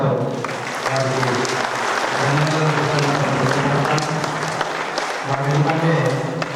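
An audience breaks into sustained, loud applause at a pyramid meditation centre's third anniversary celebration, with dense clapping that holds steady for several seconds.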